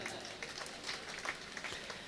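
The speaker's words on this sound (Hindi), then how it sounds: "बजाओ ताली" Audience applause at a comedic Hindi-Urdu poetry mushaira, a soft, steady patter of many hands clapping, heard from a distance and fairly faint for about two seconds.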